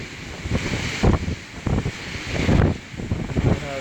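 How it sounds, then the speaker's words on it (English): Strong wind from Tropical Storm Grace gusts and buffets the microphone outdoors, swelling in loud rumbling bursts about every second over a steady roar, with no talk. "So we're having a lot of wind factor here."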